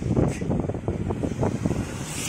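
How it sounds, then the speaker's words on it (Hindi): Heavy rain driven by strong wind in a hilly area, a loud continuous rushing roar with gusty swells, close and unbroken throughout, with no talking. "पानी हवा दोनों दे रहे"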